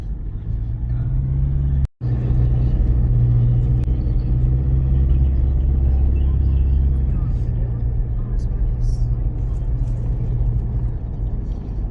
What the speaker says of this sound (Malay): Banyak lori guys melalui jalan ni.